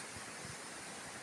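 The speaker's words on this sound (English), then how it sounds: "there's a little stream here" A small stream runs into a tidal creek off the River Dart in autumn woodland, giving a faint, steady, hissing trickle with no breaks and no voices.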